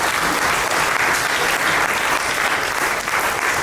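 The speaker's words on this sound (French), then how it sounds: "je pense qu'on peut l'applaudir et le remercier pour sa présence" Audience applause at a tourism round table during a general council plenary session, steady dense clapping from a seated crowd filling the room at even loudness throughout, with no voices over it.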